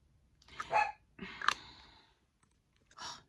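A pet dog gives a few soft, short barks and huffs indoors, spaced out and fairly faint.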